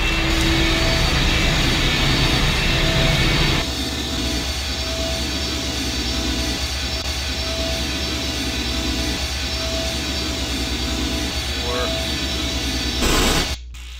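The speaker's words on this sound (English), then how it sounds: "The engine's starting up again." A machine engine in the Gorrister chapter of I Have No Mouth and I Must Scream starts up, a steady loud mechanical roar and hum that drops slightly in level after a few seconds, then continues evenly before cutting off near the end.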